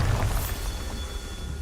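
A Bombarda blasting spell goes off as a low, heavy boom with a rumbling tail that fades over about a second, loud and close.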